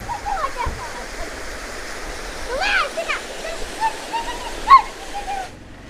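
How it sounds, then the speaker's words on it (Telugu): A waterfall on a rainy road trip around Mahabaleshwar roars as a steady broadband wash, with people talking over it and short bird-like chirps in between. "చూసారా వాటర్ ఫాల్"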